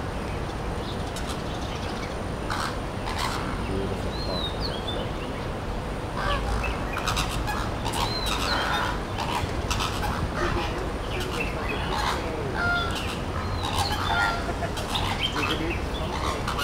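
Flock of flamingos in Kowloon Park honking and calling together, a dense continuous goose-like chorus of overlapping calls from nearby, with a voice speaking briefly.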